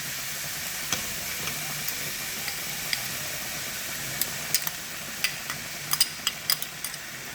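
Chopped tomatoes sizzling and crackling in a hot frying pan as they are stirred in, with scattered sharp pops and a steady low fry hiss, nobody talking.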